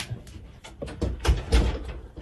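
A door creaks and bumps as a pet cat pushes through it, a short sequence of close thuds and rustles, with two heavier knocks near the end, indoors and without speech.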